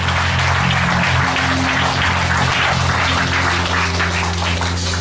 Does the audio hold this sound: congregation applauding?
yes